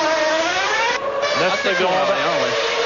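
A Formula 1 race car in the F1 1998 video game pulling away from a pit stop, its high-pitched engine whine rising steadily in pitch as it accelerates, loud and continuous under a commentator speaking.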